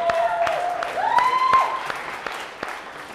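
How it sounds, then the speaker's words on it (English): An audience applauds a band with scattered, sharp claps and a couple of piercing rising whistles, loud and close at first, then thinning out. "Big round of applause for your company"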